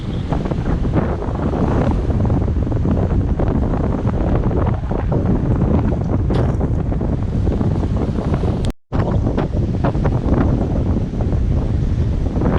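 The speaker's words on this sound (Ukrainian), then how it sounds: "Вітер серйозний." Strong wind along the Kaniv Reservoir roars steadily into the microphone, a loud, dense rumble that barely lets up, with a brief dropout near the end.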